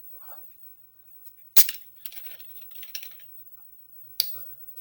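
A can of mixed berry sparkling water is cracked open with a sharp, close snap, followed by a soft hiss and light clicks, then another crisp click a few seconds later.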